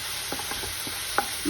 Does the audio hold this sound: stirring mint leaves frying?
yes